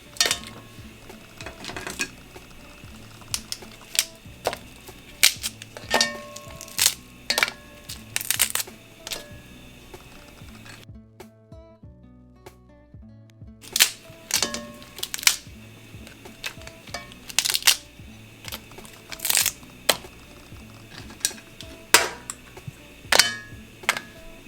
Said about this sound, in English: You want to break your crab up